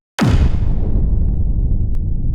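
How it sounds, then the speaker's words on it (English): A single sharp, loud boom hits suddenly, then a deep rumbling tail slowly decays over two seconds; a cinematic explosion hit played at C#2 from the Soundpaint Booms and Hits library. "So that's going to be my explosion."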